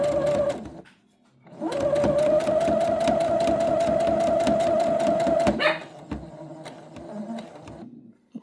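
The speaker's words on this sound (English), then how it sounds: "just sew it down" A sewing machine stitches a monkey diaper cover, with a brief burst, a pause, then a long steady run of fast, loud motor hum and needle clatter before slowing to a lighter, uneven whir.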